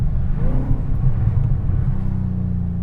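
A slammed, supercharged widebody Mustang 5.0 GT with MagnaFlow exhaust rumbles in a deep, steady idle-like drone, heavy and close with a slight rise in pitch early on.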